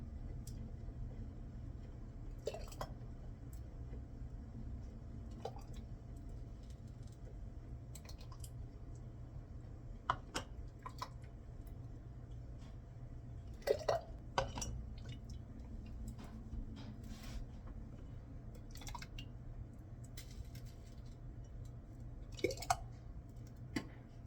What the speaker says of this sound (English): I'm gonna start filling my jars a ½ an inch from the top, which is the bottom of my funnel.